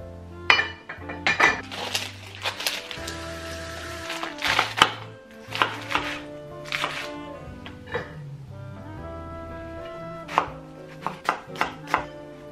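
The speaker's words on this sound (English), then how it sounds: "I want to get our toppings sliced so they're ready to go." Knife slicing lettuce, tomato and onion toppings on a cutting board in irregular bursts of sharp taps, close up, over soft background music.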